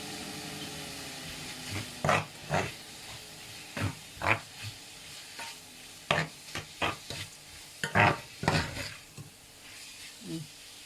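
A spatula stir-fries Thai red curry paste with pork in a pan, for a curry with eggplant and bamboo shoots. It makes a dozen or so irregular scraping strokes over a soft, steady sizzle, close up and with no talking.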